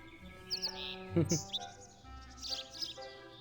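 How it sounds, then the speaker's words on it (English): A sparrowmint bird from the video game Viva Piñata chirps in short, bright bursts over game music and effects, with a few clustered tweets in the middle. "Sparrowmint. Look at that little bird."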